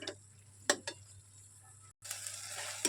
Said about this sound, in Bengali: দেখুন, এটাকে এরকম করে নেড়ে নেড়ে নেড়ে নেড়ে আমি একদম শুকিয়ে ফেলবো।